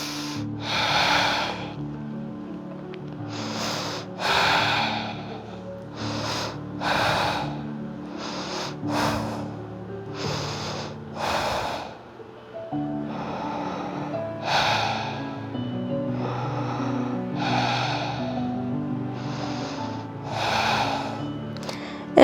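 Slow, deep breaths are drawn in and pushed out during a held yoga pose, about a dozen audible, airy inhales and exhales in a steady rhythm, close and alone.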